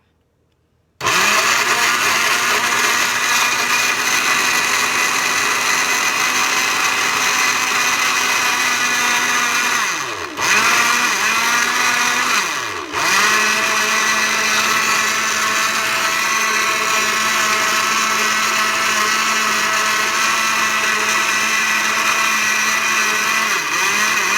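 A brand new blender mixing pancake batter runs loud and steady at close range for over twenty seconds, with two brief dips in its whirring motor before it settles back to full speed.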